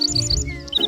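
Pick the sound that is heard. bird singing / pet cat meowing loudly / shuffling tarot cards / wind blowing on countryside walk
bird singing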